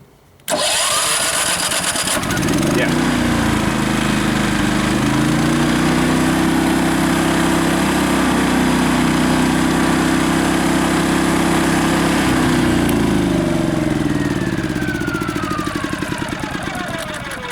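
A Champion dual fuel LPG/gasoline generator engine cranks and catches, then runs steadily and loudly close by with a constant droning hum for most of the time before slowing at the end.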